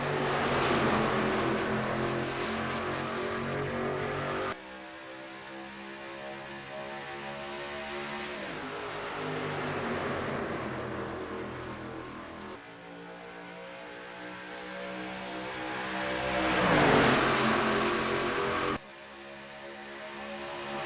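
Race cars accelerate at the green-flag start of a stock car race, a loud, sustained engine roar that swells and fades as the field passes, with several abrupt shifts in pitch and level.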